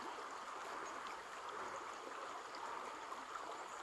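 A stream of water flowing across a hiking trail crossing in a canyon, a steady, even rush of water that holds at a constant level throughout, with no voices.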